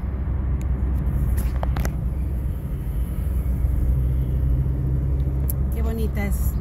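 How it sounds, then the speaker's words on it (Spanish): Mexico City street traffic: a continuous low rumble of cars and engines with a few brief sharper noises, heard steadily throughout. "Desde la Ciudad de México, en el tráfico"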